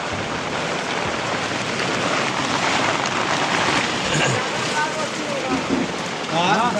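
Heavy rain falls during a windy storm in Bihar, a loud steady hiss and roar of downpour with gusts rising and falling and a brief voice near the end.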